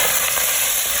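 Food fries in a pan during home cooking of pea soup, a steady, dense sizzle with bright hiss that stays close and loud throughout without a break.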